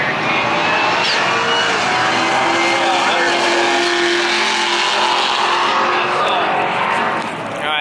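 Street cars roll racing down the strip at Bandimere Speedway near Denver, engines roaring loud and continuous with a rising pass and tire noise, while people talk nearby.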